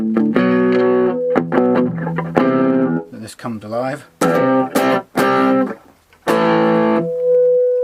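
Heavily distorted six-string electric guitar with ultra-wide string spacing, played through the bridge pickup with high gain, ringing out loud, sustained chords and riffs in bursts with short gaps, while a voice speaks over part of it.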